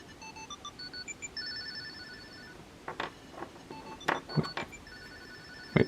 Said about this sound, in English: So it's playing like a ringtone.